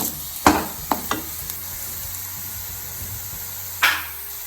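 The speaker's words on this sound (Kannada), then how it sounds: "ಫ್ರೈ ಮಾಡಿದ್ರೆ ಫ್ರೈ ಆಗ್ತದೆ ಈರುಳ್ಳಿ ಬೊಕ್ಕ ಕರಿಬೇವು" Onion and curry leaves fry in a pan for a Tulu-style dry prawn chutney, giving a steady low sizzle broken by a few sharp stirring scrapes near the start and one more near the end, with no talking.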